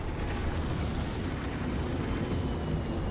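A rumbling, roaring blast from a target destroyed in a space-combat video game. It is a dense, sustained wash of noise that holds loud for several seconds, with no voices over it.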